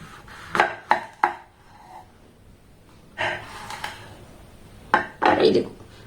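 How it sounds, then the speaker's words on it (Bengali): A knife cuts pointed gourd (potol) into pieces on a board, making sharp close knocks in three short bursts separated by quiet pauses, with faint breathing in between. "এইভাবে সমস্ত পটলগুলোকে আমি খুব ভালোভাবে কেটে নেব"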